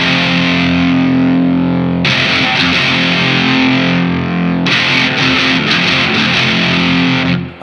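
Electric guitar played through an LSL Vital DS distortion pedal rings out loud and saturated, with sustained heavy chords broken by two sharp restrikes and no one speaking.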